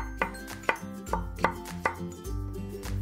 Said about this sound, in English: Just gonna cut each zucchini in half, and let's do half rounds.